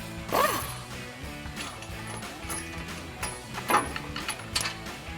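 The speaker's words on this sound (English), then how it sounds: "Take a 21mm socket to pop these out." Metallic ratcheting and clanking of a socket wrench with a 21mm socket removing brake caliper bracket bolts on a 2018-2020 Ford F-150, close and moderately loud, with a few sharp knocks over steady mechanical clicking.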